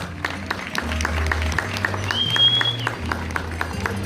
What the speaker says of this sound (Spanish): El aplauso correspondiente de los presentes.